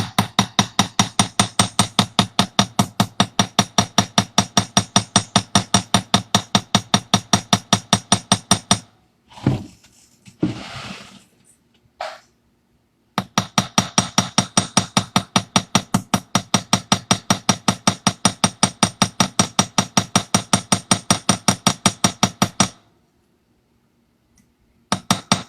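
A hammer strikes a rivet to attach a wing in rapid, evenly spaced metallic taps, a long run of them, then a pause with a few scrapes and handling noises, then another long fast burst of close, bright hammer blows.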